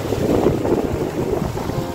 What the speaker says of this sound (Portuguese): E respingando água.